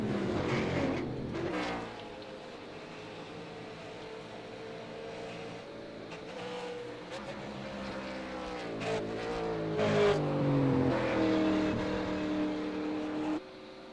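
V8 Supercar race cars at Bathurst, near Hell Corner, drone past with engine notes rising and falling through shifts, a moderate continuous roar that swells toward the end, no voices over it.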